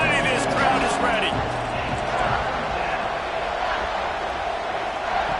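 A football stadium crowd at a college game builds into a loud, continuous roar ahead of a big third down, with a commentator talking over it.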